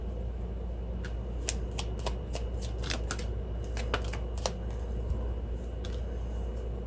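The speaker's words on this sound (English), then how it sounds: "I started shuffling mid-shuffle." Several quick bursts of tarot cards being riffled and shuffled close by, crisp flicking clicks in uneven clusters over a steady low hum.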